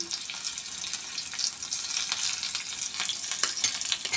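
Mustard seeds, cumin, garlic and a green chili dropped into hot oil for a tempering, giving a dense, continuous close crackling sizzle with small pops throughout, no voices.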